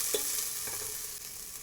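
Onions sautéing with turmeric powder in a pan for lamb vindaloo, giving a continuous close sizzle with the scrape and clink of a spoon stirring early on.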